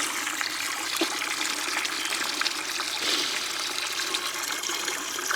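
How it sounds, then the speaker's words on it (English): Water runs steadily from a garden hose, a thin, continuous hiss and trickle with a faint splash, close by and alone with no talking. "So the water is coming out just a little bit, but it is plenty good."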